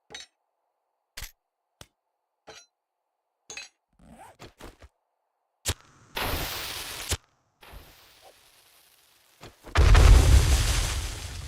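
Pipe bomb blowing up in the survival game 7 Days to Die: a few sharp clicks and pops, then a loud burst around six seconds and a heavier, booming blast near the end that rumbles on for over a second.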